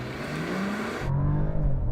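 A 2021 Mercedes E-Class with four-wheel drive launches hard in dynamic mode, its engine rising in a smooth, swelling whir as it accelerates, pitch climbing steadily before a shift partway through, heard alone with no talk.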